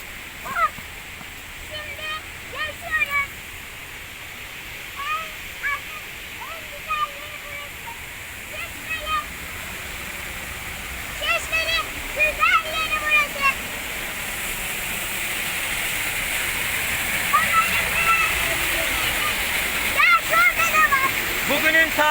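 A continuous roar of the Karapınar waterfall at the Gediz River's source fills the scene, swelling louder toward the end, while scattered bird calls chirp intermittently over the rushing water.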